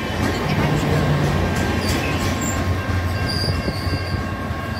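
A Caltrain F40PH locomotive-hauled train rolls past close by in Redwood City during a heatwave, a loud steady rumble of wheels on rail with squealing, while onlookers' voices sound faintly.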